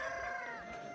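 A rooster crowing among caged roosters on a chicken farm, one short, faint harmonic call heard alone.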